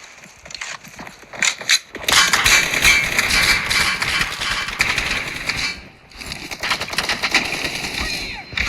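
An M4 rifle fires in the mobile game PUBG Mobile in loud, dense automatic bursts that carry through most of the clip, with a short pause and a brief break before the firing resumes.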